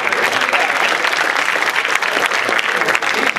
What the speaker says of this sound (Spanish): otro aplauso para ti